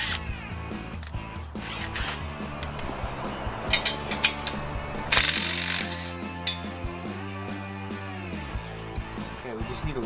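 Hand ratchet loosening bolts on a Harbor Freight engine mount for a Ford F250 engine, with rapid clicking bursts up close and someone talking over parts of it.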